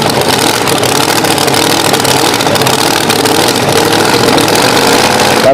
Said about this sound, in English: Let's hear it for Tim Robinson on our tractor 32.